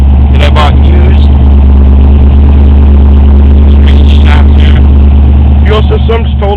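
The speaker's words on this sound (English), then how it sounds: "you hear the motor. It's not a race motor at all." A stock 1985 Mustang GT engine idles with a steady, loud low rumble, punctuated by a few brief higher bursts; stock fuel system, used Dynamax mufflers.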